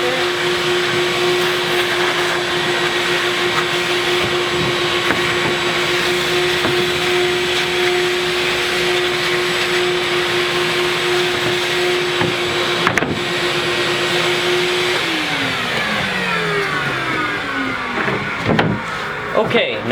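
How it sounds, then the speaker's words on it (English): A vacuum cleaner sucks up sanding dust from a wood cabinet door, a loud, steady motor whine that holds constant and then drops in pitch near the end as the motor winds down. "Vacuum up, a lot of the dust there."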